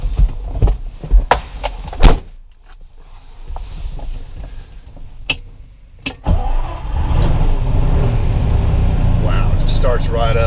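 A Ferrari front-engine 4-liter V12 cranks after several sharp clicks and knocks, then catches and settles into a loud, steady running note close by, with people talking.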